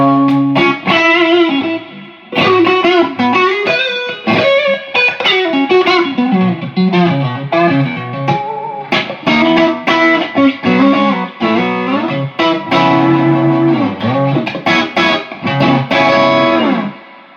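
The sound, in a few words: guitar overdrive pedal through amp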